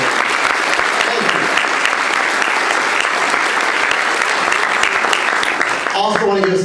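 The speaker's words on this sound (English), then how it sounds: "Let's give them a round of applause to thank them for being here today" A crowd of retired employees' colleagues at a spring general assembly claps steadily in a dense, sustained round of applause that carries on throughout, easing off near the end as a voice begins speaking.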